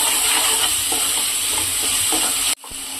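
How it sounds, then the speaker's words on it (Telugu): Washed prawns tipped into a pan of masala for a prawn curry, giving a steady, loud sizzle and frying hiss with some stirring, which cuts off sharply near the end. "ఇప్పుడు మనం కడిగి పెట్టుకున్న రొయ్యలన్నిటిని వేసుకున్నామండి"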